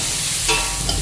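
Onions fry in a pan for Rajasthani dal baati on low gas, a steady close hiss of sizzling oil with a faint stir scraping midway.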